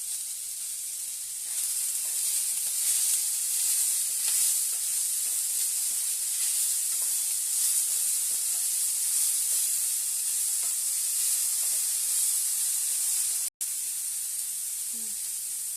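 Food sizzles steadily in a pan with salt added, a bright continuous hiss of frying with faint stirring clicks, loud and close, brief break near the end.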